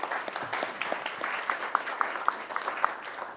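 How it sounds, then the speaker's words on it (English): An audience at a CEO conference applauds: a dense, moderate wash of many hands clapping, somewhat distant, with a few sharper individual claps standing out near the end. "Round of applause."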